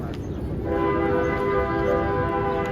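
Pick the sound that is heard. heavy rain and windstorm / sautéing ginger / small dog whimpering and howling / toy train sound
toy train sound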